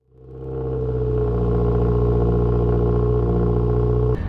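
A 2015+ Subaru WRX with an axle-back exhaust holds a loud, steady rev with a deep, droning tone, rising quickly at the start and ending with a sharp pop.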